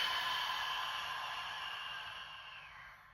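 A long, steady exhale of breath during a breathing exercise in a back-release workout, close and clear, fading gradually over about three seconds with no talking.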